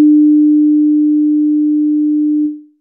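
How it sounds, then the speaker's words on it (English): A pure, steady sine test tone from a software tone generator hums at a single pitch for about two and a half seconds, then cuts off with a soft fade; nothing else is audible. "So to hear the tone that's going to play, you just click on this play button."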